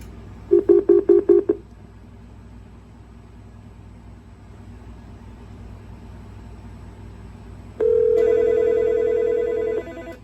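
Touch-tone keypad dialing on a Modular ICS business phone system: a quick run of about six DTMF beeps, then after a pause a steady, louder tone lasting roughly two seconds, with no voices.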